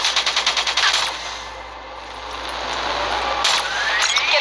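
A minigun firing in Call of Duty Black Ops 3, a loud rapid stream of shots that starts with a rattling burst and continues as a sustained roar, with brief extra bursts near the end.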